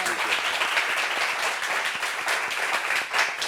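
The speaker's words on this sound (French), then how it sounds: "Applaudissements encore pour ça." A studio audience applauding on a talk show, a dense, continuous wash of clapping that holds steady throughout.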